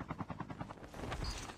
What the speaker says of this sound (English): Whoa, whoa, whoa. Helicopter.